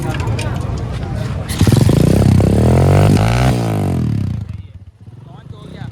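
Motorcycle at a Karachi bike market switched on, then starting and revving loudly up close with clattering mechanical noise before settling; voices around it.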